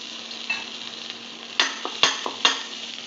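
Chopped garlic and crushed ginger fry in a pan with a steady, close sizzle, broken by a few sharp clinks of a spatula stirring against the metal.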